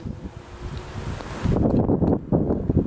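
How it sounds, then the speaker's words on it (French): Gusty wind buffets the microphone with a low, rumbling roar that strengthens midway and stays rough and loud to the end. "Oh, le vent vient de changer de place."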